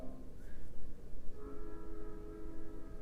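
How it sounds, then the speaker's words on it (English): A train rumbles past at a distance with its horn sounding in sustained tones, heard steadily over low, continuous rail noise. "A train, really."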